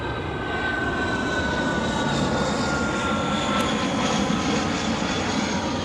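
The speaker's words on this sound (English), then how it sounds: "I guess you get the delightful sounds of a jet coming through." A jet airplane passes overhead at an outdoor camp in the woods, its engine a steady, continuous roar that fills the whole stretch without fading.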